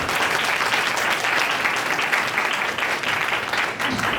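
A seminar audience at a Baptist church history forum claps steadily to welcome a speaker, a dense and even wash of applause that holds for about four seconds.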